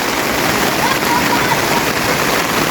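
Flood water rises fast in a residential street, making a constant broadband rushing hiss like a steady torrent, with no distinct breaks.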